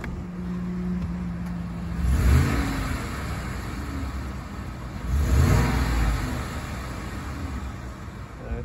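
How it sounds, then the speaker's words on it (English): A 2016 Ford F-150 XL pickup engine idles steadily and is revved twice in quick bursts, each swelling and falling back to idle, close by and fairly loud with no talk. "We'll give it a little rev real quick."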